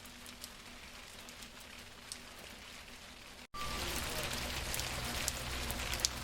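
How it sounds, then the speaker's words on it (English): Light rain falls outdoors in a quiet rural setting, a soft patter that grows noticeably louder and denser partway through. "it's raining a little bit"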